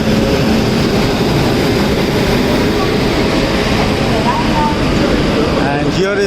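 An Indian Railways WAP electric AC passenger locomotive from the Gomo shed hauling the Garib Rath Express, heard as a loud, continuous close-up rumble and roar of rolling rail traffic at an unbroken level.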